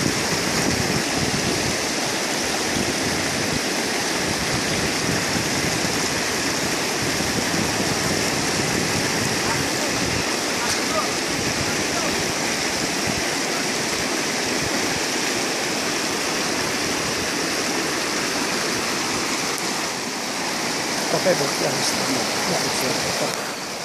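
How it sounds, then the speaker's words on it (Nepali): Loud, continuous rushing of the Baitani Khola river up close during a crossing on a Kirat pilgrimage route, a steady broadband roar of flowing water that never lets up. "यहाँ हाम्रो बैतानी खोला तर्ने क्रममा"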